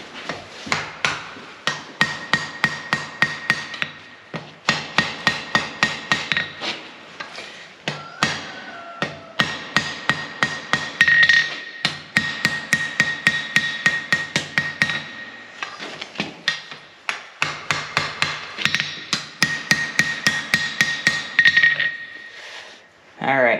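A hammer strikes a forged tension spring for a post vise on an anvil in quick rhythmic bursts of ringing metallic blows, pausing between series, with a sharp ping carrying through the hits.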